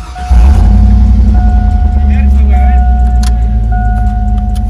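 A pickup's engine is started with the key, with a turning crank catching into a loud, steady idle rumble and a faint whine, while voices talk over it.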